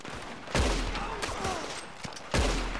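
Gunfire in Red Dead Redemption 2 Online: loud, close shots ring out in a few sharp bursts with echoing tails, a heavy volley at the start and another near the end.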